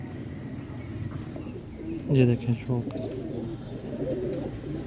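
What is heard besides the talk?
pigeons cooing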